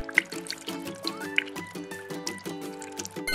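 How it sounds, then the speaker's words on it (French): Water from a basin runs out of toy cups with holes in their bottoms, making a light, continuous trickling and dripping with bright little splashes, close by and alone. "Ce sont des verres avec des trous en dessous. Tu vois comme l'eau coule?"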